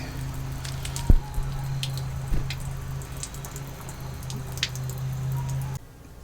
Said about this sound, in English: Now we're going to wait for that water to stop draining, because we want all that water out of there before we do anything.